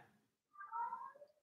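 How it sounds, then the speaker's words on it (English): A house cat lets out a single drawn-out meow in an indoor room, faint and a little distant, with a softer murmur just before it and nothing else around it. "Oh, that was my cat there."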